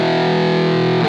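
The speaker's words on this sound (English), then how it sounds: "You got the outro, which for me is just my distortion tone" Heavily distorted electric guitar chord rings out, playing a song's outro with a thick, fat distortion tone that sustains loud and steady throughout, cutting off right at the end.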